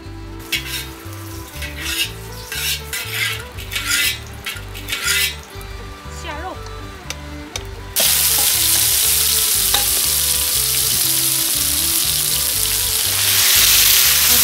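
Inner Mongolian lamb is stir-fried with scallions in a pan. Scrapes and clanks of stirring come first over music, then a loud, continuous sizzle swells for the second half.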